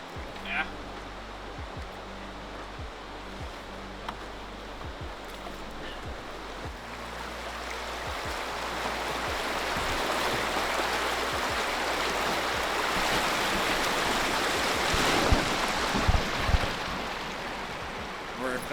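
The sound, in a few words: creek water flowing, Gong Creek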